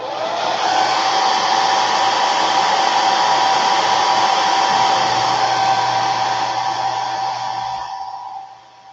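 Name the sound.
hair dryer drying paint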